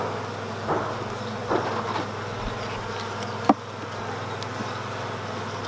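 Honey bees drone in a dense, steady buzz close by during a June hive inspection in the UK, with a few soft knocks and one sharp tap from handling the hive.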